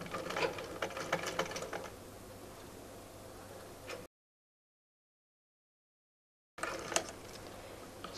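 A sewing machine stitches a kolshi-style palazzo, its fast steady mechanical whir running for about four seconds, then silence, then a second burst resuming near the end.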